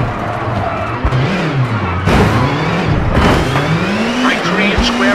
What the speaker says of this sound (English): Hard brake for chicane right